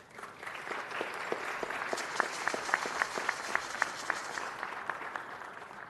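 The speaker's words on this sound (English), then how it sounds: "Please give them a round of applause." An indoor audience at a city council meeting claps steadily, with distinct individual claps rising from a soft start and tapering toward the end.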